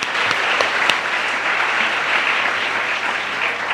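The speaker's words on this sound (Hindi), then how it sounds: "ताली बजाओ, ताली बजाओ।" An audience claps steadily, a dense and even wash of applause that holds at moderate volume without any talking.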